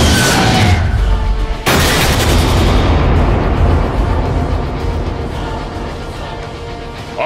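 Loud blasts of gunfire and explosions in Transformers: Fall of Cybertron, a big boom opening into a dense, roaring barrage that slowly fades toward the end.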